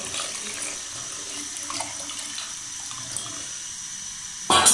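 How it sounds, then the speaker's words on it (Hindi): Cold water runs into a pot of Kashmiri pink tea, a steady, soft gushing stream that carries on for several seconds with no voices. "अभी फिर हम ठंडा पानी ऐड करेंगे।"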